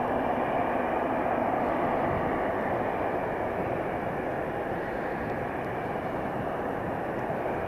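An Air Baltic airliner taxis toward the runway end at snowy Riga International Airport, a steady broad engine rumble and hiss holding constant and fairly close with no talk.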